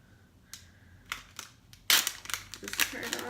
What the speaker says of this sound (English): and then peel the outer like ring off.